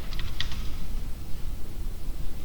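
Computer keyboard typing out code, with a short cluster of quick, light keystrokes near the start and then only steady low room noise.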